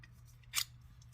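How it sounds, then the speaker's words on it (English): Scissors snip a piece of hair once, a single crisp, close cut standing alone over a low steady background hum. "Scissors."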